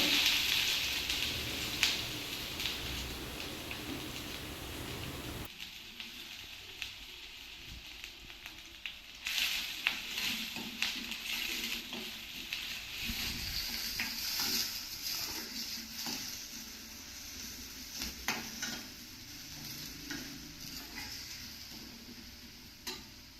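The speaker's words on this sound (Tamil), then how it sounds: "இந்த மாதிரி கொஞ்சம் நேரம் வதக்கிக்கிட்டே இருங்க." Onions sauté in a pan for mushroom gravy, giving a faint, steady crackling sizzle with soft ticking pops, quiet and continuous throughout.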